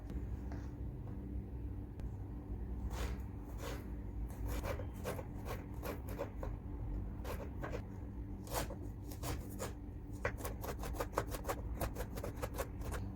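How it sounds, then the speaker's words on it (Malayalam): Knife chopping fresh ginger finely on a board for a Kerala yogurt side dish, a quiet run of quick, irregular taps that grows busier toward the end. "അപ്പോൾ നമുക്ക് ആദ്യം തന്നെ ഈ ഇഞ്ചി ഒന്ന് കട്ട് ചെയ്തെടുക്കാം"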